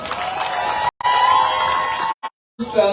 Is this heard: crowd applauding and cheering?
yes